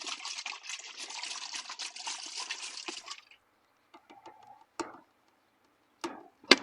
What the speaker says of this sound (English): fill it with some water and sloosh it